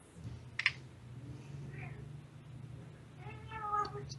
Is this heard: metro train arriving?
no